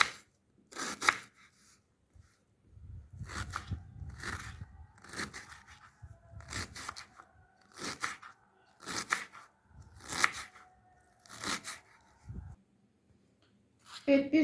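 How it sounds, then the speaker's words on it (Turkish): A knife chops an onion repeatedly on a cutting board, about ten sharp crisp strokes in an uneven rhythm, close by, with quiet gaps between. "soğanımızı doğradık."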